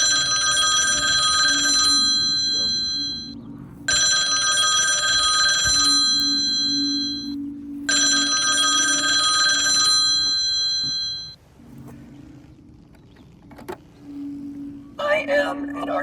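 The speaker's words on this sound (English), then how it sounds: "the landline suddenly rang" A landline telephone rings loudly three times in long electronic bursts separated by short pauses, followed by quieter background noise and some faint tones.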